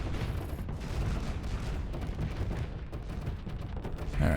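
Shock cannon fire in the Starsector space combat game, a dense continuous barrage of booming blasts and crackling impacts that rumble loudly throughout without any talk.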